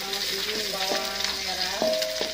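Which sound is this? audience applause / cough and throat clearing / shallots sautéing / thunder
shallots sautéing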